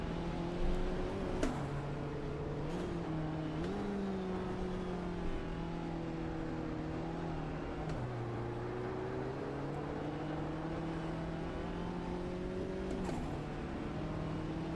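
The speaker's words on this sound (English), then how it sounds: "Little turbo boost flutter there." Race car engine in the Automobilista 2 racing sim, a steady droning tone that rises and dips with throttle, with a few brief sharp turbo flutter chirps around it; no one talks.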